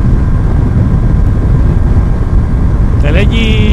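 Yamaha R25 motorcycle cruising on a highway in the morning, a loud steady engine drone with heavy wind rush throughout, and a faint higher tone appearing near the end.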